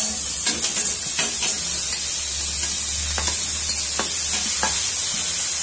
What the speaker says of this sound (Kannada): ಈಗ ತೊಳೆದಿರೋ ಮಶ್ರೂಮ್ ಅನ್ನು ಹಾಕೋಣ.